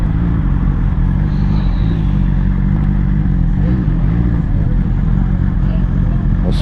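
An adventure motorcycle engine idles at a little over 1,000 rpm, a steady, loud low rumble with an even throb that holds throughout, with no revving.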